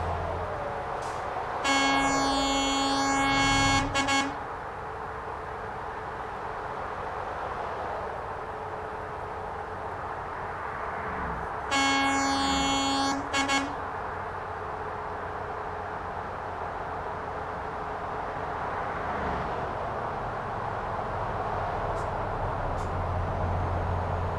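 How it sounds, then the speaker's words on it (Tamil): A truck horn in the Euro Truck Simulator 2 video game sounds two long, loud blasts about ten seconds apart over a steady engine and road drone. "நாங்கள் ஹார்ன் அடிப்போம் எப்போவுமே"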